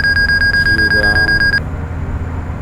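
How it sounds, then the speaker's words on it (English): A gear down warning alarm sounds in a Carenado PC-12 cockpit in the Prepar3D flight simulator: a loud, rapid pulsing electronic beep, about a dozen pulses, over steady engine and wind rumble. It cuts off, leaving the drone. "That gear down alarm."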